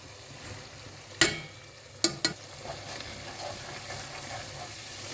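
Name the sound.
tomato and spice powders sautéed in oil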